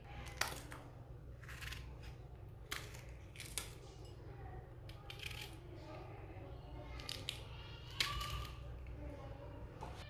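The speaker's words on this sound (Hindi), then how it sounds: "इसमें ना एक सब्ज़ मिर्ची काट लेंगे।" A green chili sliced with a knife for a pea recipe, giving a few sharp, scattered cuts and taps close by over a steady low kitchen hum.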